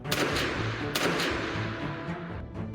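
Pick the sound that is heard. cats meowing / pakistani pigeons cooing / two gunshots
two gunshots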